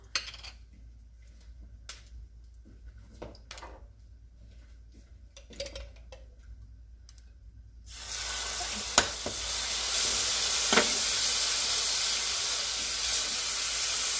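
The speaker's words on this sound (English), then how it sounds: "Then we want to add the sofrito." Sofrito hits a hot pan with achote seasoning, bursting into a loud, steady sizzle with hissing steam that holds to the end, after quieter stirring and light clinks beforehand.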